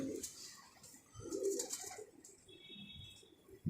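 Low, soft cooing of pigeons in a pigeon loft in Udhampur repeats several times at close range, with faint rustling and higher chirps in the background.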